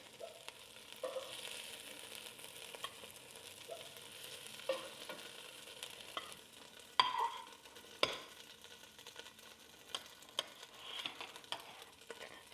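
A spoon gently stirs and scrapes Swedish meatballs frying in a single pot, with faint sizzling under scattered soft clinks and scrapes, including one sharper knock partway through.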